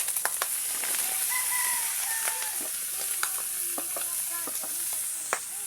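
Sayote being stir-fried with already-cooked pork, a steady close sizzle with scattered scraping stirs and clicks of a utensil, no talking; faint bird-like chirps sound in the background.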